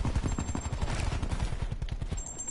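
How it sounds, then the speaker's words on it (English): Sustained automatic gunfire in Call of Duty, a fast rattling stream of close shots pounding on without pause for a few seconds. "Why are you shooting at me?"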